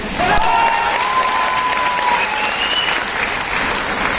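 An audience claps steadily and warmly for a few seconds, a dense even wash of hands from a crowd with a faint tone drifting above it.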